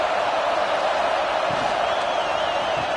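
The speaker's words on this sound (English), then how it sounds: "This crowd trying to make life miserable for this offense." A steady, dense stadium crowd roar from a college football video game, Purdue against Penn State, a constant wash of noise that holds level for the whole moment with no clear cheering peaks.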